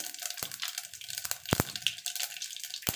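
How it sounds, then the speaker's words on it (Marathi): Mustard seeds and then cumin dropped into hot oil for a Malvani-style usal tempering, giving a soft hissing sizzle with a few sharp pops and crackles, close and fairly quiet. "तर तेल गरम झालेलं आहे आता मी मोहरी घालत आहे नंतर जिरं घालत आहे"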